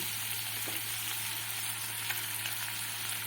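Taro stolons with prawns sautéing in a pan with turmeric and ground mustard paste, a constant close sizzle with faint stirring clicks over a low steady hum, no talk.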